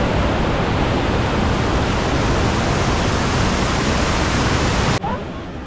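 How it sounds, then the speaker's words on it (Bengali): Kanchenjunga Falls in Pelling, Sikkim, roars as a dense, loud, steady rush of falling water, close by and unbroken, dropping abruptly to a softer wash at the end. "এই হচ্ছে মেন কাঞ্চনজঙ্ঘা ওয়াটারফলস। দেখুন জলের কি ফোর্স"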